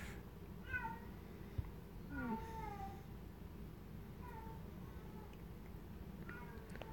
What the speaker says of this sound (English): She's really loud at meowing.